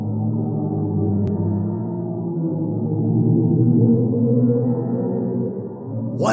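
Sonified pressure waves from the supermassive black hole in the Perseus galaxy cluster, a loud, sustained low droning hum with slowly shifting, eerie tones, alone without speech.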